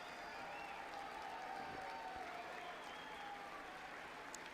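Applause from an audience at the State of the Union address, a steady distant wash of clapping throughout, fairly faint.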